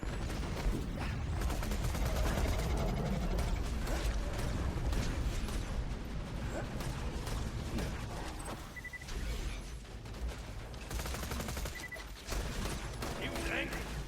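A deployed turret in the shooter game Borderlands 2 fires rapid bursts of gunfire throughout, a dense rattling barrage mixed with other battle noise, while people talk over it.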